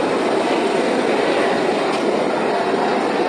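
A train at Sealdah South railway station rolls past with a loud, continuous rushing rumble and steady mechanical noise, close by.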